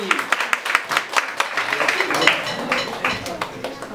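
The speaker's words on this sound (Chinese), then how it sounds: "让我们掌声谢谢他们的精彩演出" A school audience claps after a student performance, with distinct individual claps in an uneven rhythm at first that build into a fuller round of applause, with talk running faintly alongside.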